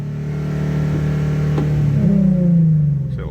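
A car engine held against a launch control rev limiter, droning steadily at a fixed pitch, then the revs climb and bounce on the limiter in a loud, close, continuous hum with no talk.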